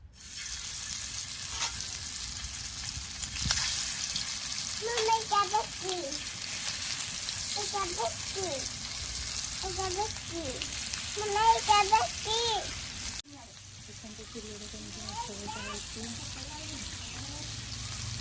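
Fish fries in oil in a pan on a village chulha, a steady sizzle running throughout with stirring and clattering, a quieter stretch after a brief cut, and faint talk in the background.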